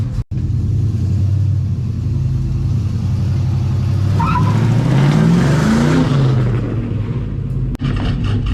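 A low car's engine drones steadily while it is driven up onto a trailer, giving a loud, close rumble with a rising rev partway through and one brief sharp knock near the end.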